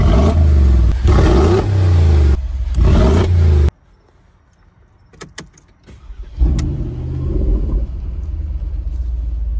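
A Mercedes-Benz G63 AMG 6x6 rumbling loudly at idle, cutting out briefly, then a few clunks before the engine roars back and revs as the truck pulls away, close by.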